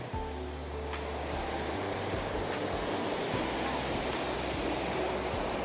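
Heavy river water rushes steadily from a dam beneath the Arapuni swing bridge in New Zealand, a loud continuous roar with no pauses and no voices.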